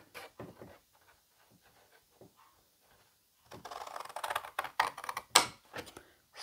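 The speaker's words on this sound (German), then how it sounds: "jetzt nehme ich aber doch mal meine Schere. Schneiden wir hier dieses Stück hoch." Scissors snip and crunch through large cardboard packaging at close range, a few sparse clicks at first and then a denser run of loud, sharp cuts and crackles.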